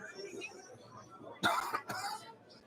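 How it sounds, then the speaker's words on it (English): A sports commentator at a bowling match coughs twice in quick succession, close and fairly loud, after faint background noise. "Sorry, a little cough going on."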